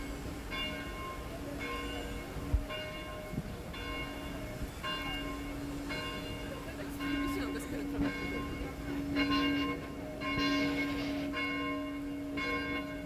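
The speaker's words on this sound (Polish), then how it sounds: "Tutaj możecie słyszeć dzwony" Church bells ring on Krupówki street in Zakopane, Poland, in a steady repeating pattern, resonant tones sounding at regular intervals over a constant low hum, with faint voices in the background.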